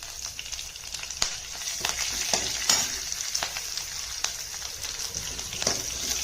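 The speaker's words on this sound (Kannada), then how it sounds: "ಮೆಣಸಿನ್ಕಾಯಿ ಸ್ವಲ್ಪ ಬಾಡಿಸ್ಕೊತೀನಿ." Slit green chilies sizzle and crackle in a hot pan for lemon rasam, a steady close frying hiss with occasional sharp pops and stirring scrapes.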